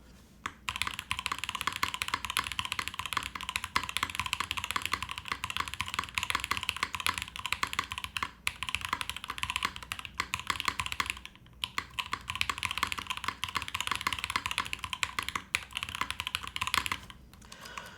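Continuous mechanical typing on a Bauer keyboard, a dense stream of crisp keystroke clacks at close range with a brief pause midway, no voices.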